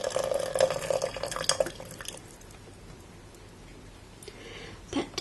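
Water runs into a kettle for traditional tea, a steady splashing fill for about two seconds that then cuts off. A quiet pause follows, with one faint drip or knock near the end.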